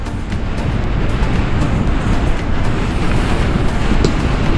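Strong wind gusts batter the microphone while riding a Bounce Infinity E1 electric scooter on the mountain road from Kargil to Leh, a loud, constant roaring buffet with crackling bursts and no voices.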